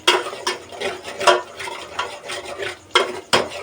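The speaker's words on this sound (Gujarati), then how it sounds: "તો હવે એને પાછા આપણે હલાવીશું" Egg biryani being stirred in a pot, a spoon scraping and clinking against the metal in irregular close strokes, about eight distinct knocks among continuous scraping, with no voices.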